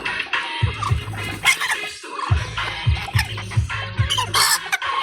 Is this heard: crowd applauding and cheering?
no